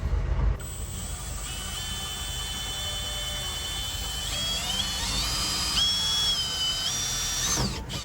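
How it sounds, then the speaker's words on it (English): A power drill bores holes through a Solos MFG double DIN radio bezel, a steady whirring grind lasting several seconds with rising whine as the bit cuts, fairly close and alone. "now I got my drill bit, and we're gonna go to town"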